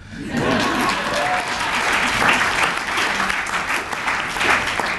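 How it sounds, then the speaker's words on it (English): A crowd breaks into loud, continuous clapping mixed with some cheering, rising quickly from a quieter start and staying steady and full throughout. "That's a good opportunity for you to cheer."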